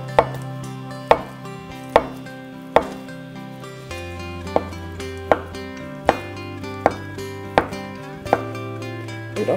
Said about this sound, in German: Grob würfelig schneiden, der zergeht eben.